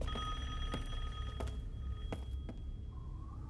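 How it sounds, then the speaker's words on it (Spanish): An in-game telephone rings in Resident Evil 8, giving several sharp repeated rings over a low droning ambient background, with no talking over it. "Mira nomás, escucha el teléfono."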